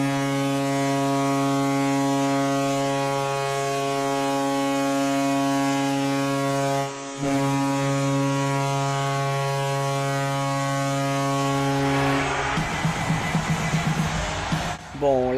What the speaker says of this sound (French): En 25e position, on a le Lightning de Tampa Bay.